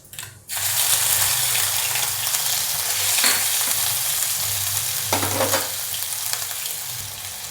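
Cumin, green chillies and garlic hit hot oil with a sudden, loud burst of sizzling that settles into a continuous close crackle with faint stirring, while the filling for matar karanji is prepared.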